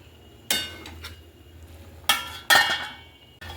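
A metal lid set down on a pot of yogurt-marinated chicken while cooking chicken rezala in a home kitchen, giving a few sharp clanks and clinks at separate moments, close by, against a quiet low hiss.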